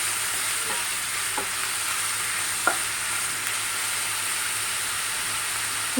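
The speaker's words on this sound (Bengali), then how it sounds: "পেঁয়াজটাকে আগে ফ্রাই করে নেবো" Onions frying in a covered pan on the stove give a steady, even sizzle and hiss, with a few faint clinks and one sharper tap partway through. No one speaks.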